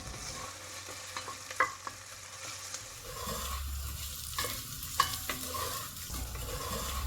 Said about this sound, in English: Now let's put the onions in it and stir it until it goes a bit softer or caramelized.